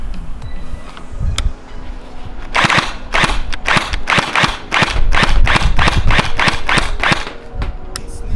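A LeHui AUG gel blaster fires semi-automatic: a brisk series of sharp, loud cracks, each a distinct snap with short gaps, following a quieter stretch of handling noise at the start.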